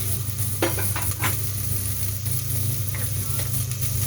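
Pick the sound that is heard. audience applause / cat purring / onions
onions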